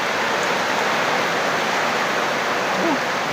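Heavy rain pours in a dense, steady roar with strong wind, a loud continuous wash filling the scene with no clear breaks throughout.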